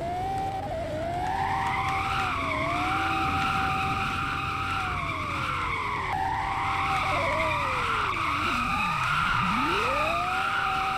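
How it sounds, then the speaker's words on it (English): A Lexus drifting in a video game, with a sustained, loud tire skid squealing and wavering in pitch over a revving engine that rises and dips as the car slides, no talking. "I was drifting my Lexus out of the van"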